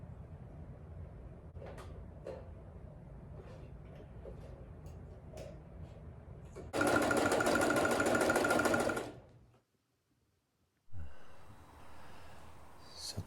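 A sewing machine runs in one steady, loud buzzing burst lasting about two seconds. Before it, quiet clicks and handling noises are heard. After it comes a short silence, then a thump and a low rumble.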